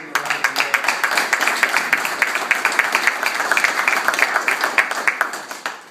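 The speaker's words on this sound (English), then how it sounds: "So let's give him a round of applause." An audience at a press conference in Long Beach bursts into sustained applause, dense rapid clapping from many hands filling the room steadily for several seconds without voices.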